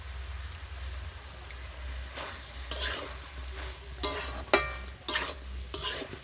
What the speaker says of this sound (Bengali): সবজিটা দিয়ে আমি একটু ভালো করে কষিয়ে নেব।